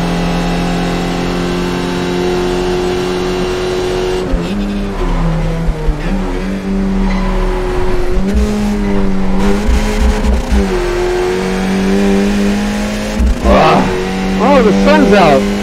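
Race car engines roar and rev steadily throughout a session of the iRacing sim, with rising and falling pitch sweeps as cars accelerate and shift, plus tire squeal near the end; voices murmur faintly underneath.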